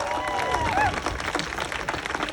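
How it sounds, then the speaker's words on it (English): A crowd claps and applauds at an outdoor women's march rally in Seneca Falls, a dense steady patter of hands with cheering voices mixed in, brief and fairly loud. "let's give a little round of applause to the enlightened men"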